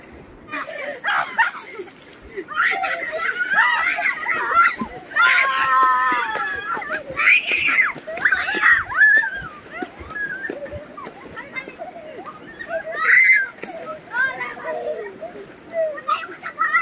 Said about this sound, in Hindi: ठंडे ठंडे पानी में नहाना चाहिए।